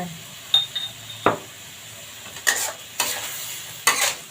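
Bamboo shoots and pork are stir-fried in a pan, with a few distinct scrapes and clinks of a utensil against the pan over a low sizzle, close and intermittent.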